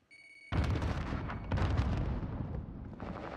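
A frag grenade explodes in Call of Duty Warzone on the Caldera map, a sudden loud blast after a short faint lead-in, followed by a sustained rumbling roar that swells again before slowly thinning out.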